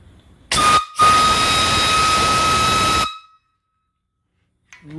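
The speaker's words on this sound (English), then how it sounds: "Really nice whistle." A live steam boiler's whistle sounds one loud, sustained, steady shriek after a brief stutter at the start. It cuts off abruptly and is followed by silence.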